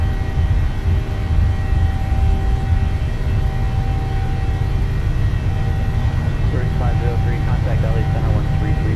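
Simulated jet engines of a PMDG 737 spooling at takeoff power in a flight simulator, a steady loud low roar with a rising whine near the end, a voice speaking over it.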